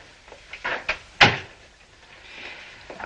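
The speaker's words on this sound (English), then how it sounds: "Close the door." An indoor door being closed in a 1961 film scene, with a few soft shuffling movements followed by one sharp thud of the door shutting, close and fairly loud, then quiet room tone.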